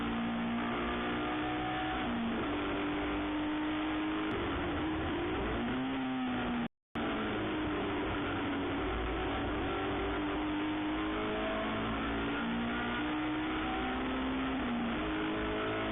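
Under-1600 class cars in the Improved Production Car Championship Nationals in Perth, 2017, race past with a dense, continuous engine drone, pitches rising and falling as cars accelerate and cross the line, loud and unbroken apart from one brief dropout.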